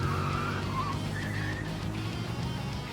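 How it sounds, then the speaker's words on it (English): Tires screech from a car in the Trails into Daybreak video game, shrill wavering squeals over a steady low engine rumble, loud and close. "I appreciate the tire screeching noises."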